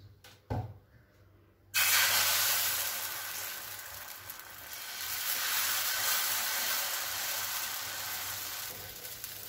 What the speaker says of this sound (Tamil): இப்போ தோசை ஊற்றிக்கலாம்.